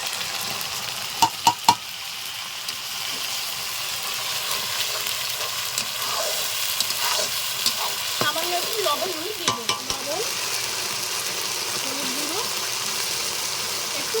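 Cumin, coriander and dried chilli paste sizzling in hot oil as it is stir-fried for a village-style dish, a steady close frying hiss broken by a few sharp spoon scrapes and clatters.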